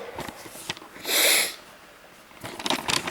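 A single sharp, breathy sneeze bursts out clearly in the middle, surrounded by quieter sniffing and rustling sounds.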